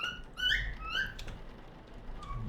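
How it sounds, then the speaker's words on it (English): Pet birds chirp cheerfully nearby, a few bright whistling trills in quick bursts early on, then quieter background with faint room noise. "They're a bit more cheerful, as you can probably hear."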